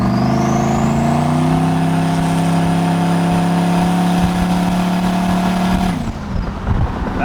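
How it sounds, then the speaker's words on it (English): Turbocharged Chevrolet Tahoe engine held at a full pull on a dyno on low boost, a loud sustained roar with a rising turbo whine that cuts off sharply near the end, no voices. "Give her a full pull real quick."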